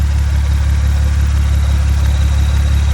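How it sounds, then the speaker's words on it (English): Loud exhaust of an idling Toyota car drones steadily close by, with a deep, even low rumble and no talking. "The exhaust is so loud, you can't really hear it over the exhaust."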